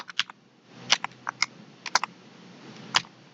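Crisp keystrokes on a computer keyboard while coding in Python, about eight distinct taps in irregular bursts, close and fairly quiet over a faint room hum.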